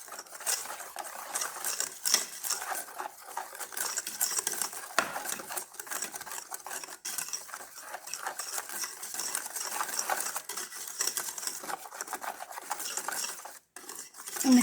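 Dry cupcake ingredients, yeast and a pinch of salt, stirred in a bowl with a spoon, giving steady close scraping and clinking against the bowl throughout, with no talking.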